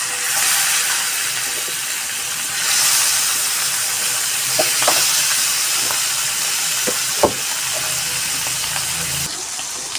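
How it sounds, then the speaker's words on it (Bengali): Fish frying in hot oil in a pan gives a loud, steady hissing sizzle that rises and falls in waves, with a few soft clinks and pops of a utensil against the pan. "এখন মাছটা ভেজে নিব"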